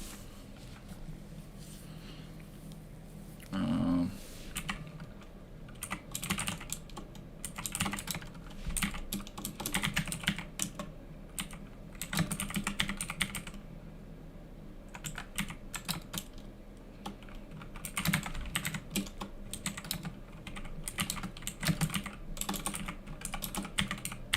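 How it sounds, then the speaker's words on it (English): Fingers type on a computer keyboard in uneven, rapid bursts of light clicks and pauses. The typing is close, fairly quiet and heard alone, with no talking. "just my friend of mine is typing, sending me messages"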